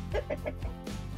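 Chickens and roosters cluck in a snowy winter coop, a quick series of close, clipped clucks in rhythmic bursts over a second, with a soft low murmur beneath.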